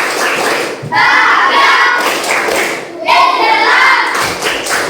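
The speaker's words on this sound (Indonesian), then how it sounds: "Sekali lagi, tepuk semangat" A class of students performs a rhythmic spirit clap in a school lesson, loud bursts of patterned clapping and thumps in two phrases separated by a short pause, with voices mixed in.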